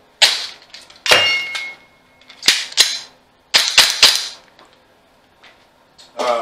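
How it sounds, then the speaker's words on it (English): A Cool Fire trainer dry-fires a pistol, giving a series of sharp, close snapping shots in irregular singles and quick doubles, each ending in a short metallic ring with quiet gaps between them. "get you some practice on dry firing"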